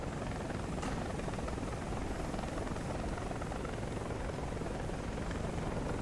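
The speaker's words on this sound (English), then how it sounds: "They have an enemy helicopter." Enemy helicopter in the War Thunder video game, a steady loud rotor drone with rapid blade chop holding through the whole stretch without any talk.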